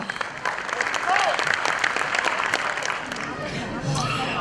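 Parents applaud after a children's performance at a preschool annual day event, dense clapping filling the hall steadily with crowd murmur and voices mixed in throughout.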